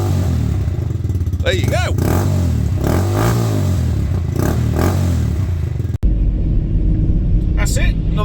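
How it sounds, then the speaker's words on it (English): A Honda MSX 125 Grom motorcycle engine idles loudly and close by, then is revved in a few rising bursts while a person says a few words over it. "Give it a little rev if you like, make it make some noise."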